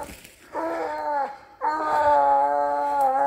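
A 13-month-old young dog on a leash whines in two long, drawn-out whimpering cries, high and tonal with a brief pause between them, close and clear with no talk.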